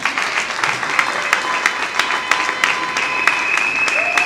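A crowd applauding at a show in Kinshasa, dense continuous clapping with sharper individual claps standing out, fairly close, with a voice speaking over the applause.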